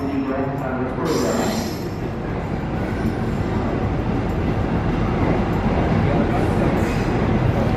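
Inside an economy carriage of the stainless new-generation KA Jayabaya train, a loud continuous rumble and clatter of wheels on rails rolls on throughout.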